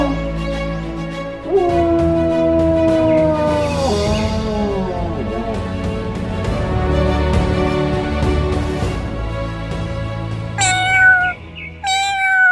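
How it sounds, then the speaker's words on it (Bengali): A cartoon cat gives several drawn-out, wavering meows, a long sliding cry early on followed by quick high squeals near the end, loud and close. "মিউ মিউ করছিস কেন?"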